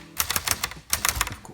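Typing on a 1949 Hermes Rocket typewriter gives two quick bursts of sharp, close keystroke clacks, rapid and uneven, separated by a brief pause.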